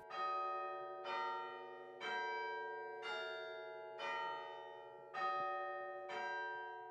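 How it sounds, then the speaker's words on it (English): Cathedral tower bells peal in a slow, even sequence of about seven strikes roughly a second apart, each with a bright ringing onset and a long, humming decay. "church bells are still being rung"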